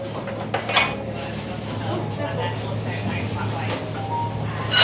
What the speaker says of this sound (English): it is an absolutely beautiful cafe